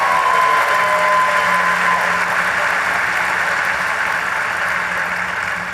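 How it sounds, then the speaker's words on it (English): Audience applause at a national SHPE meeting, a dense, steady wash of clapping from a large crowd that continues evenly throughout and eases off slightly at the end, alone without talk. "But a round of applause for all of our SHPE staff who make things happen."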